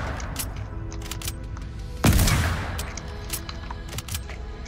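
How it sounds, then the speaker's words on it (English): Gunfire in an online shooter video game: scattered distant shots and one loud, close blast with a long boom, ringing out amid a steady background rumble. "Bruh, I'm shooting you."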